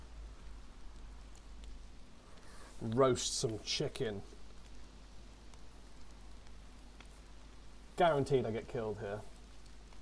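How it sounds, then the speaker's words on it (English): Steady, soft rain patters continuously in the DayZ video game, a faint even hiss running beneath two short bursts of someone talking. "Oh, and it started raining again."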